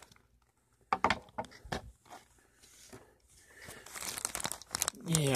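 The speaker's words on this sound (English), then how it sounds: "Taking a pair of scissors and gently cutting it open" Scissors cut open a plastic comics bag: crinkling and snipping plastic sounds come close and fairly loud, starting after a quiet moment and growing busier toward the end.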